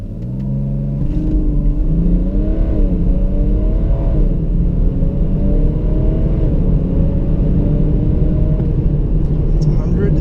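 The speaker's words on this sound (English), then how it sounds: "dial up the revs, then release the brake, and the launch control sorts it out" A diesel SUV engine roars steadily under hard launch-control acceleration, its pitch climbing through gear changes, while a person talks over the loud, close rumble.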